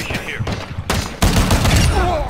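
Rapid bursts of gunfire in the Call of Duty DMZ video game, loud and close, with a short pause before a heavier sustained volley; a radio-style voice speaks beneath the shots.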